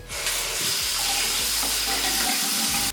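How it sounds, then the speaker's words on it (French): Tap water gushes continuously to rinse pastel-pink dyed hair, a loud, steady, close rushing that cuts off abruptly at the end. "Après les 20 minutes, on rince."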